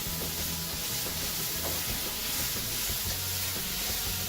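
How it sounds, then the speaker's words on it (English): Constant hissing sizzle of beef frying in a hot pan, steady and fairly quiet, with faint clatter underneath. "Here's that sizzle"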